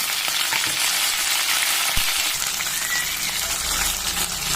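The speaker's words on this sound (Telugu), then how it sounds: "అన్ని వెజిటేబుల్స్ వేసి బాగా వేయించుకోవాలి. మునక్కాయలు," Drumstick pieces, radish and carrot fry in a hot pan with a dense, steady sizzle, close and continuous, broken by a few light stirring knocks.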